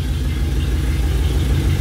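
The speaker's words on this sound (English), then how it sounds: "That's a little exhaust leak for you." A classic car engine with a small exhaust leak idles loudly and close, a steady low rumble with a faint ticking, even pulse throughout.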